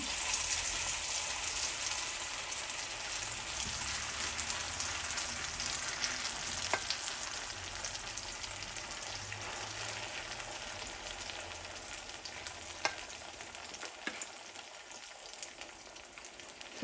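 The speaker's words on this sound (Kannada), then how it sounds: "ಸೊ ಈಗ ಈ ಬ್ಯಾಟರ್ನ ಹಾಕೋಣ. ಸೊ ವೆಜಿಟೇಬಲ್ಸ್ ಎಲ್ಲ ಮಿಕ್ಸ್ ಮಾಡಿದ್ವಲ್ಲ, ಸೊ ಅದನ್ನು ಫುಲ್ ಹಾಕ್ಬಿಡೋಣ." Vegetable batter for cauliflower handvo hits a hot pan with mustard seeds and keeps up a steady, dense sizzle, with occasional small pops and no talking.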